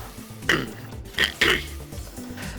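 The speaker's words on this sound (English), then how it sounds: "This cough is annoying." A man coughing several times in quick succession at close range, short throaty bursts spaced through a couple of seconds over quiet room tone.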